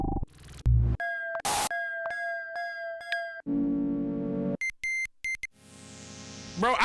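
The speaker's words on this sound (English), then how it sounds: "this is all Jupiter 8 samples" A rapid series of short tones from a Roland Jupiter-8 vintage synthesizer: bleeps, buzzy stabs, bright sustained notes and chirps, each cut off sharply, quiet overall.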